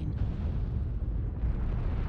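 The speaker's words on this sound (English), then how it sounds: "Artillery strike online." Artillery strike in MechWarrior Online: a steady, heavy low rumble of explosions that fills the whole stretch at moderate loudness, a continuous booming roar with no talk over it.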